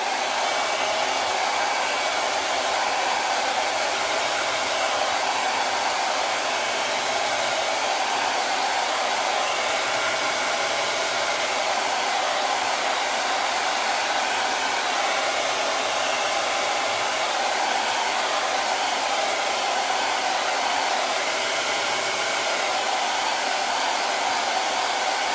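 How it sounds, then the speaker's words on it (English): Hair dryer blowing air to dry chalk paint, a loud, close, continuous whooshing roar that holds steady without a break, with no talking. "I'm gonna put a little air on it from the hairdryer just to get it really dried really well"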